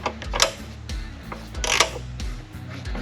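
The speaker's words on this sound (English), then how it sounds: "these gear wrenches really make life a little bit easier" A ratcheting gear wrench clicks in quick bursts of repeated ratchet ticks while working on a Caterpillar 3208 diesel engine near the intercoolers in a Bluebird Wanderlodge motorhome, close and fairly loud, with no talking.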